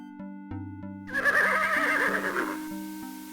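A horse named Nightmare neighs loudly in the King's Quest VI video game, one long whinny rising over a synthesized background music loop.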